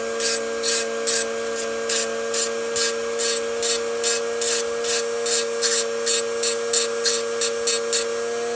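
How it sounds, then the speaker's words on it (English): A Dremel rotary tool with a slitting wheel grinding around the end of a steel steam toy boiler, heard as a steady run of short, bright grinding bursts in a quick regular rhythm over a constant motor whine, close and fairly loud. "I get my Dremel and a slitting wheel, and go around that"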